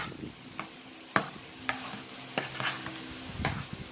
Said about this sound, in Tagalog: Yan, mix lang natin.